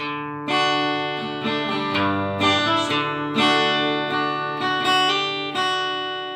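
Slow guitar chords strummed one after another, each left to ring out in a clear, unhurried rhythm with no voices.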